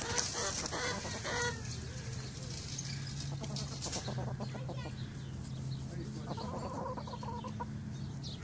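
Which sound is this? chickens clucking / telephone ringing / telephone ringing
chickens clucking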